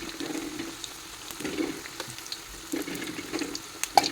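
Onion vada fry in sunflower oil with a close, continuous bubbling sizzle. Small crackles and pops recur irregularly throughout, with no talking.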